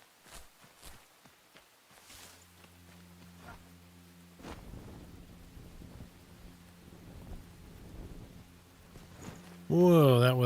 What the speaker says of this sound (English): the rain sounds really good in this game